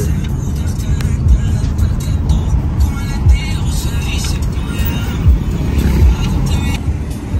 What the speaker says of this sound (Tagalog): So ongoing po yung pag-drive ni Boss JP